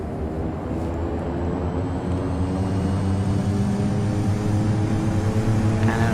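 Steady, loud aircraft engine drone building as a plane is throttled up on the runway for takeoff in Flight Simulator X, a continuous tonal roar with rising harmonics and no speech.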